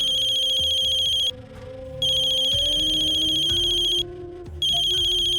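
A mobile phone ringtone plays loud and close in a Pakistani TV drama scene, a steady electronic tone pattern that stops briefly twice before resuming.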